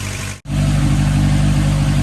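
A steady, loud Acura Integra B18C1 engine runs close by after a clutch and lightweight flywheel install, with a brief cut near the start before it settles into a continuous even drone.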